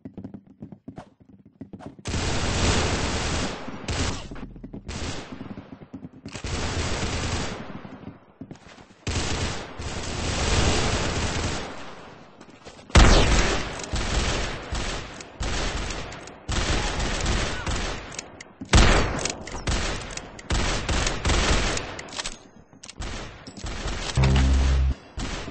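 Gunfire from the Roblox game Arsenal comes in repeated rapid bursts and volleys across about 25 seconds, loud and close, separated by brief gaps.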